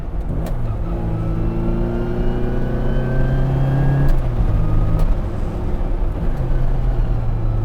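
Mk 3 Mini Cooper S with a straight-cut gearbox accelerating hard past onlookers, the engine note climbing through revs, dipping at a gear change, then pulling again, loud and close throughout.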